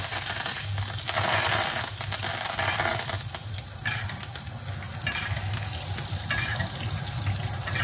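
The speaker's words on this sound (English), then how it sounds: "all we want to do now is just want to baste that steak" A New York striploin steak sizzles and spits loudly in a very hot pan as it is basted with thyme, with steady frying crackle and occasional spoon scrapes throughout.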